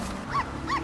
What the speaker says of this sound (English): Gee-willikers, there's a puppy.